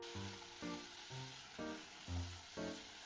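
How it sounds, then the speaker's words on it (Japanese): Potato pieces sizzle steadily in hot sesame oil in a pot, with soft stirring noises and a faint hum repeating in the background. "鍋にごま油をひいてじゃがいもを軽く炒めます。"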